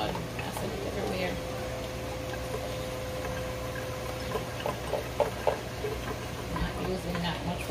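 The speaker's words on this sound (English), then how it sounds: "I'm sending it everywhere, splashing up everywhere." Water bubbles and splashes in a pot as Jamaican-style rice and peas cook, a steady close simmer with a few sharper spatters partway through. No one talks over it.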